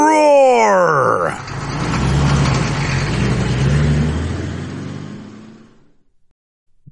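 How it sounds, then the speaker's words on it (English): Cartoon garbage truck engine roaring and revving after a voice calls for it, a rising mechanical growl that swells, holds loudly for several seconds, then fades out into silence. "Engine, roar!"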